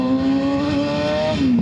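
A Kawasaki ZX6R motorcycle accelerates hard, its engine a loud, close, high-revving wail that climbs steadily and then drops briefly at a gear change, with no voices.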